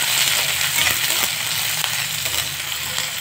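Large-cut onions fry in oil in a pan for an Indian soybean curry, a constant close sizzle and crackle with occasional light stirring scrapes.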